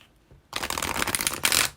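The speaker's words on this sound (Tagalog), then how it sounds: "Inulit ko yung pagbalasa ng baraha." Tarot cards are shuffled briskly after a quiet start, giving a dense run of riffling flutters and papery slaps that lasts about a second and a half, close and clear.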